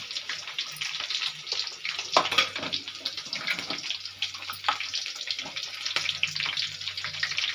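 Sizzling and crackling from onions frying in hot oil, a steady hiss with scattered pops.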